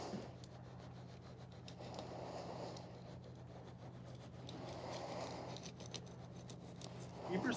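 A blade slices through insulation for a fishing boat cabin, giving a steady scraping, rubbing sound that continues for several seconds up close, with faint voices mixed in.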